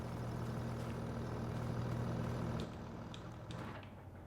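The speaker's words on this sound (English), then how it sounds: "The tractor's on." A tractor engine idles in Farming Simulator 25, a steady low rumbling drone that holds evenly, then drops slightly in level partway through while continuing alone.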